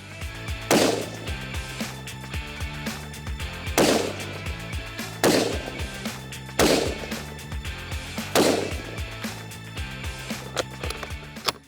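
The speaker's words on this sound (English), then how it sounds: "now we're going to get some time and get some shots behind it" Rifle shots fired at an outdoor shooting range through a Vortex Viper HD scope setup, six loud sharp reports spaced about one and a half seconds apart, each ringing out with a decaying echo.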